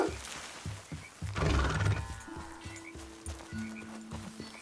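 A horse in Red Dead Redemption 2 gives a loud, close whinny amid steady hoof clip-clops, with a low droning tone running underneath.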